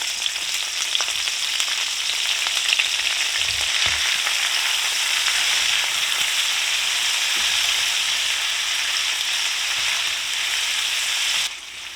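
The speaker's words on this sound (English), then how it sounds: "I'm going to toss in some of my pepper and onion stir fry, maybe just a handful or two." A handful of thawed frozen pepper and onion stir fry fries in a pan with a steady, loud, even sizzle that carries on without pause, then cuts off near the end.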